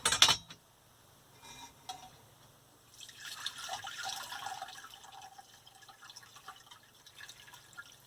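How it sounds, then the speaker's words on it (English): Steeped dandelion tea poured through a strainer into a jug, a soft trickling and dripping of liquid that swells after a brief clatter at the start and continues steadily, close by and fairly quiet. "I'm just going to strain it into the jug"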